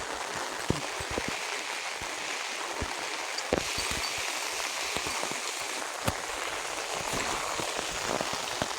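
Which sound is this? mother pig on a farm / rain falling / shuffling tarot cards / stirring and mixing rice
rain falling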